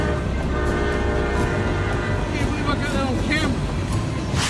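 Freight train rumbling along the tracks toward a truck carrying equipment stuck on the crossing, its steady heavy roar continuous and loud, with a horn-like tonal layer and a voice speaking over it.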